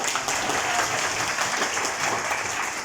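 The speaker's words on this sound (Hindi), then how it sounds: "इतनी तालियां ना बजाएं" A live audience claps steadily throughout, dense sustained applause from a seated crowd at a university talk, with no voices standing out.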